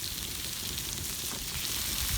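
Fajita meat and vegetables sizzle over a campfire in a steady, dense frying hiss, close and even throughout, with no voices.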